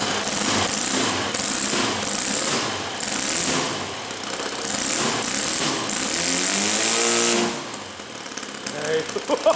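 OS FT 160 Gemini twin-cylinder model engine, converted from glow to gas, running loudly and close with a rough pulsing throb that surges and revs several times before easing off toward idle.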